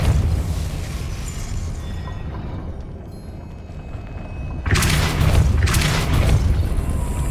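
Hogwarts Legacy's Depulso spell is cast, a sudden heavy booming blast that enters after a quieter stretch and rumbles loudly for several seconds, with sharp bursts layered on top.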